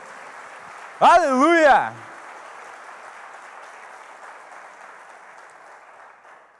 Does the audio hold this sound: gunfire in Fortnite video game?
no